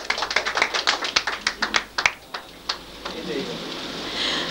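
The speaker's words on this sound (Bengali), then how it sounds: "আমরা তাকে করতালি দিয়ে অভিনন্দন জানাবো" A small audience at an award ceremony claps for a prize recipient in a quick burst of sharp, close hand claps that thins out to a few scattered claps and then fades.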